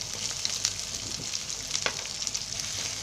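Onion sizzling in hot oil with whole garam masala spices such as cardamom in a home kitchen pan, a steady close crackle and hiss throughout with no talk.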